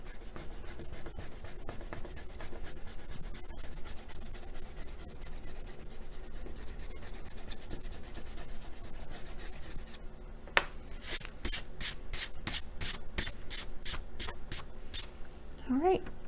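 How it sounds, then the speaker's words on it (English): A pencil eraser rubs back and forth across drawing paper to remove pencil lines, a continuous close scrubbing that gives way to a series of short, distinct strokes near the end. "So I'm going to take my eraser and erase all of my pencil lines now"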